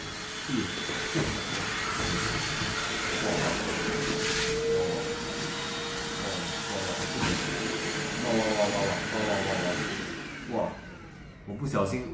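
A Deerma VC20 cordless handheld vacuum cleaner runs with a steady motor whine and airy hiss throughout, close and continuous, while a person talks over it.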